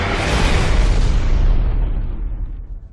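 A Lambent creature blowing up on death in the shooter Gears of War 3, one loud booming explosion that rolls out and fades over a few seconds, with no voices.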